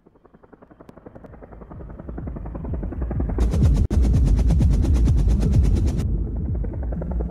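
A helicopter approaches with rotor thumps that grow from faint and sparse to a loud, dense chop, joined midway by a sharp high whine, playing back from a music video.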